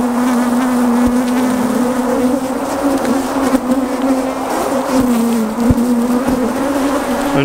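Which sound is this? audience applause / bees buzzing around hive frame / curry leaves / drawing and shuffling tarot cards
bees buzzing around hive frame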